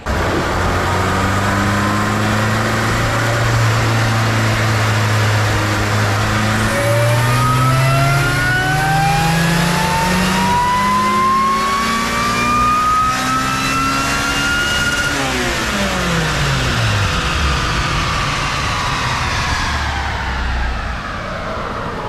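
Turbocharged K24A2 Honda Civic hatchback engine on a dyno at 18 psi boost, loud and close, holding a steady drone then climbing in a long rising rev to high rpm before the revs drop back off near the end.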